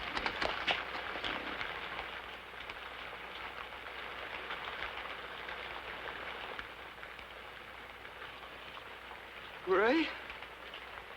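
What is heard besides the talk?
heavy rain falling outdoors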